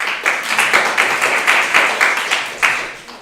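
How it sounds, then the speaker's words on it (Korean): A presentation audience at a Korean academic culture-content festival bursts into sustained, dense applause of many hands clapping, steady and fairly close, tapering slightly toward the end. "박수 많이 주십시오"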